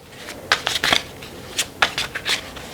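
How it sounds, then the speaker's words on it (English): Tarot cards being shuffled by hand up close, a series of short crisp riffling bursts separated by brief pauses, fairly quiet with no talking. "I'm going to go ahead and do the regular shuffle"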